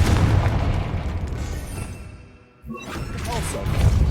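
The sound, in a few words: Confringo blasting curse explosion in Hogwarts Legacy video game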